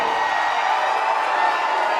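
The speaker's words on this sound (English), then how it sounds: "And now the crowd really coming to life here behind Rishi" Wrestling fans cheering at a live NEW Dark event in the Commodore Ballroom, Vancouver: a continuous, even wash of crowd noise and shouting, steady and moderately loud throughout the short stretch.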